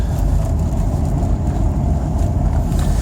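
A car with a broken clutch cable drives in second gear, its engine a steady, loud, continuous low drone with road rumble throughout, no talk over it.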